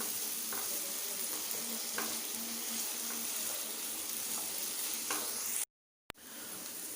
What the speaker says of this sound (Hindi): किशमिश को फ्राई कर लेते हैं। इनको भी हम अच्छी तरह से फ्राई कर लेते हैं।